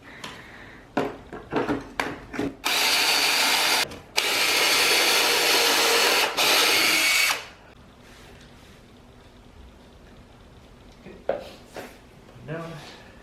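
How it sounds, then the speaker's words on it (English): A power drill bores pilot holes into cedar boards for a raised garden bed, with a jig guiding it. Two long loud whirring runs are set among clicks and handling knocks, and a voice is briefly heard. "drill some pilot holes here"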